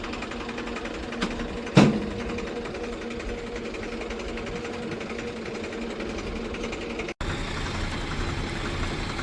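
A steady tractor engine drone, failing to idle properly, runs continuously with a slightly uneven, pulsing texture; a brief sharp knock stands out early on, with no voices.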